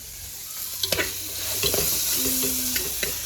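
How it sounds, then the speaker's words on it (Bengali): Spices sautéing in a pan for chicken curry, a close steady sizzle with several sharp spatula scrapes and taps as the mixture is stirred, no voices. "এখানে মশলা কষানো হচ্ছে"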